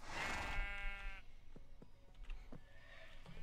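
A video game sheep lets out a single drawn-out bleat up close, then a few soft clicks and faint background sounds follow in an otherwise quiet scene.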